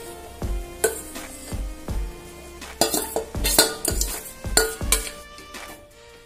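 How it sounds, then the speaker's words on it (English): Spinach being stirred and sauteed in masala over a medium flame, with repeated scraping and clanking of a utensil against the pan and a faint sizzle underneath, close and irregular in rhythm. "Now we will blend our spinach to the masala nicely and keep sauteing this on medium flame."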